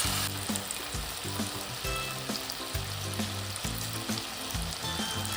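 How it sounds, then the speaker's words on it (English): Coated potato pieces deep-fry in hot oil, a loud close sizzle with constant bubbling crackle, overlaid by a recurring low tonal hum in the background. "Now drop the coated potatoes into hot oil and fry them for about 2 minutes"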